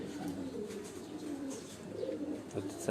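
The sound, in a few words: breeder pigeons cooing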